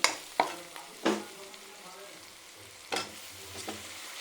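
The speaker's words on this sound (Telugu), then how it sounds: "ఇప్పుడు ఇందులో అరటికాయ ముక్కలు వేసేసుకుందాం." Raw banana pieces drop into hot oil with fried onions, setting off a soft steady sizzle punctuated by several sharp stirring knocks and scrapes close by.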